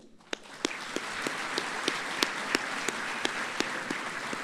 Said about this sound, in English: Gents, please join me in a round of applause this evening for our wonderful teachers and our wonderful parents